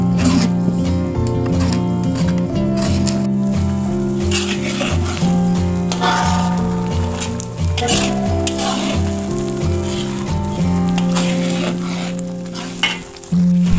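Duck gizzards and potatoes fry in a pan, a continuous close sizzle broken by scraping stirs and occasional utensil clinks, with steady music playing underneath throughout.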